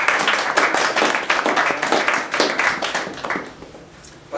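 Audience applause at a research spotlight presentation, dense steady clapping from many hands filling the room, easing slightly toward the end.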